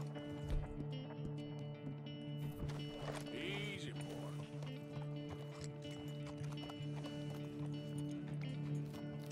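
Tennessee Walker horse galloping in Red Dead Redemption 2, rhythmic hoofbeats running under steady game music and ambient sound, with a brief whinny partway through.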